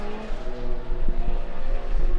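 Race car engine at a wintry club circuit race easing as the driver lifts off the throttle, a steady droning note with harmonic bands that dips and wavers, heard at moderate distance without talk.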